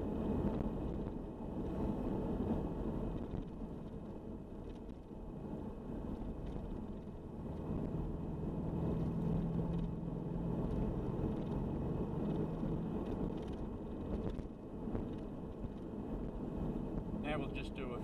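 A Nissan ZD30DI diesel engine pulls through a slow acceleration in fourth gear, a dense steady low rumble from inside the moving vehicle with road and wind noise, and someone talking over it.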